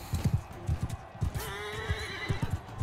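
Horse in the Mount and Blade video game whinnies in a long rising-falling neigh over a steady run of galloping hoofbeats and clip-clop thuds, close and fairly loud throughout.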